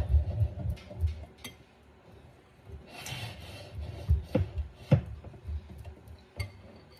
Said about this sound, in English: our flour, baking powder, salt, cinnamon, and baking soda. So let's whisk that up.